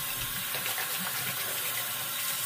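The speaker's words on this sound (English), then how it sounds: "let me wash my hands off" A tap runs steadily into a sink while hands are washed after a straight-razor shave, a close, even gushing hiss that fills the whole moment with no voices.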